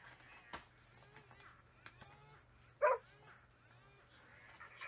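A battery-operated toy dog, switched on by hand, gives a short electronic bark amid faint yips and whimpering noises, with quiet room sound between.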